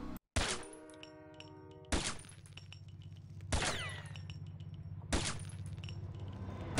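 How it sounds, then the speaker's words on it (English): Four evenly spaced sniper rifle shots in a video game, roughly one and a half seconds apart, each a sharp crack over a steady low hum, with metallic clinks of quick weapon switching between them. "It's quick switching between sniper rifles. This is pretty much you shoot, and then you press 1 to switch to the next sniper"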